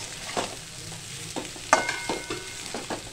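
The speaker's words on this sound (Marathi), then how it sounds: "आता ही कुरडई टाकली की आपल्याला अशी चांगली परतून घ्यायची." Kurdai, fried sago or wheat noodle crisps, are stirred and tossed in a pan for a Maharashtrian bhaji, giving soft scraping and clinking spatula strokes over a faint sizzle, with one sharper knock partway through.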